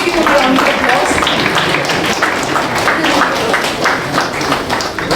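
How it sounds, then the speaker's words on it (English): Sustained applause from an event audience welcoming a councillor onto the stage at a Hounslow council elections gathering, loud dense clapping with crowd murmur running throughout. "Please give him a round of applause."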